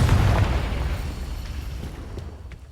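A Confringo fire spell explodes in the Hogwarts Legacy video game: a loud, bass-heavy boom that bursts at once, then rumbles and slowly fades over a few seconds with no voices.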